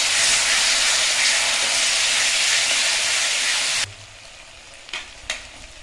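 Spiced masala for Ritha fish curry sizzles loudly in hot oil in a pan, a steady close frying hiss that drops off abruptly, leaving quieter bubbling and a couple of stirring scrapes.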